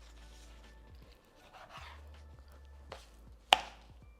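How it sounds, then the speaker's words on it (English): Knife cutting raw steak into bite-sized pieces on a board, a series of soft, scattered chops with one sharper knock, close and quiet with no talk. "So I'm going to continue cutting the rest pretty much the same way"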